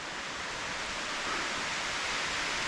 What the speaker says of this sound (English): here comes the rain, you can hear it.